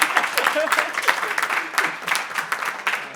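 An audience at a furry artist panel discussion claps steadily for a few seconds, a dense patter of applause with some voices mixed in.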